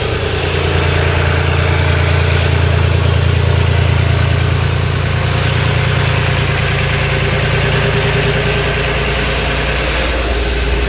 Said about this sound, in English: That's a tractor engine.